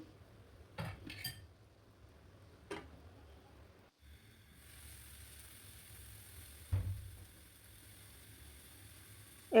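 Metal utensils clink against plates and pans as cooked banana blossom curry is dished up, a few sharp scattered clinks spread over a quiet kitchen background.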